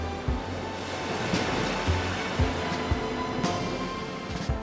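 Ocean waves on a long Basque coast beach, a continuous roar of surf with heavy low rumbling surges breaking at irregular intervals, wind noise mixed in, loud and close with no voices.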